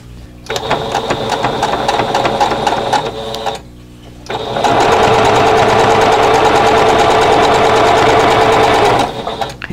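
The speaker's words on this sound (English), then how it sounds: "So we're going to go ahead and sew these." Sewing machine stitching quilt block rows together, running in two steady, loud bursts of rapid mechanical whirring, with a brief pause between them.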